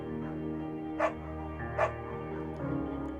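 Beagle barking in the Firewatch video game, two short close barks about a second apart over a dense bed of game music and ambience.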